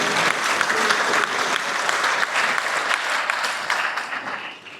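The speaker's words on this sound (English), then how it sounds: "So can we all give a round of applause to Nicola and Attilio?" Sustained audience applause at an evening startup investment summit, a dense, even wash of clapping from a crowd that holds steady for several seconds before tapering off at the end.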